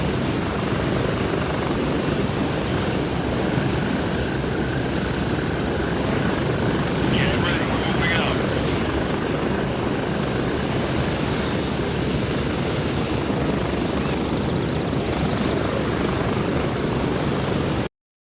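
A helicopter in the video game Gray Zone Warfare gives a steady loud rotor and engine roar that holds evenly throughout, with a thin high whine on top.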